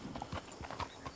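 Horse hooves clip-clop at a steady walking rhythm in the video game Red Dead Redemption 2 Online, four or five distinct moderately close strikes over a low ambient bed, with no talk.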